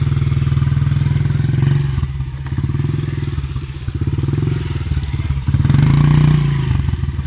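A dirtbike engine revs hard and steadily while a rider does donuts in mud, a loud, close, continuous buzzing drone that surges higher near the end.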